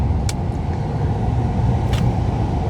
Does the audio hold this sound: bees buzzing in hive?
no